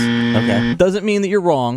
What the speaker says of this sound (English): a buzzer will sound